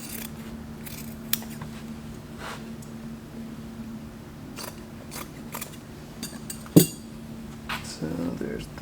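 Scissors snip and cut away old upholstery fabric from an antique dining chair seat, a few soft, faint cuts spread over a steady low hum, with one sharper click near the end.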